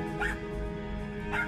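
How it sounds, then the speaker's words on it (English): Puppies at a Romanian street-dog rescue shelter give two short whimpering yelps, one near the start and one near the end, over a steady murmur of background noise. "sorry, puppies."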